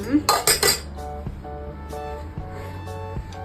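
A cooking pot meant for holding milk, set out as equipment for homemade yogurt, gives a few quick, close metallic clinks at the start, followed by a quieter steady tone with faint knocks.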